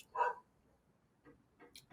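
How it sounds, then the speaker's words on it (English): A single dog gives one short, sharp bark near the start, then a few fainter, softer yips or bark fragments follow at irregular intervals, fairly quiet against a calm indoor background. "Of course, the dog started barking right in front of our."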